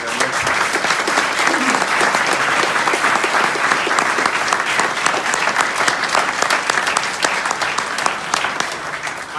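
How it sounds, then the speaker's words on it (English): Sustained, dense applause from an audience at a political candidate forum, steady and loud throughout with no pauses, the clapping holding at an even level and only easing slightly toward the end. "I kindly request that we give them a round of applause for being there"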